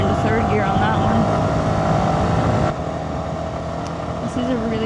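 A motorcycle engine hums steadily while riding through a small town, loud and close with wind noise, easing down partway through as the rider slows.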